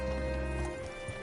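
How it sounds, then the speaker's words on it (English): Horse hooves clip-clopping in Red Dead Redemption 2, a short steady run of close, fairly loud steps over a low background. "Hitch your horse up here."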